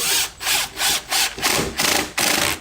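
Power drill driving a stainless steel screw into a window frame during a retrofit window replacement, six or seven short whirring bursts separated by brief pauses, close and loud, no talk.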